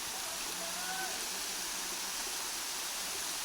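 Steady broadband rush of river water flowing at Yaganak Falls in Calauag, Quezon, a constant hiss with no clear breaks, faint voices in the background.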